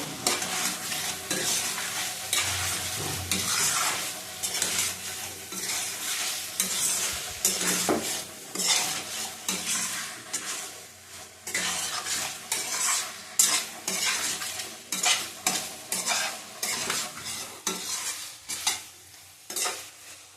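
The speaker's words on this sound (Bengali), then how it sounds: "দেখো মাছগুলি ভাজা হয়ে গেছে।" Catla fish pieces stirred and fried with spices in a pan, a steady sizzle under repeated scraping strokes of a spatula, close and continuous with no talking.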